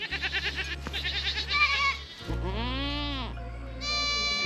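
A dairy goat bleats loudly and close by, giving several drawn-out wavering cries in a row.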